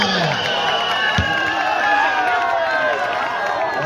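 A crowd at a volleyball tournament final cheers and whoops in a steady, dense roar, with a voice talking over the noise.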